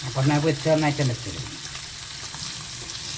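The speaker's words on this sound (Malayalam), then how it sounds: "ഇനി ഇത് പൊരിക്കുക." Trout sizzling and crackling in hot oil, a steady frying hiss throughout, with a brief murmur of voice near the start.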